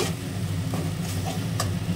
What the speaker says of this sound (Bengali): চিনি দিয়ে একটু নেড়ে নেব।